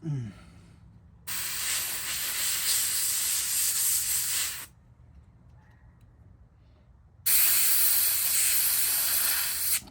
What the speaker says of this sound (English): you can also take your cleaner bottle and just blast cleaner through there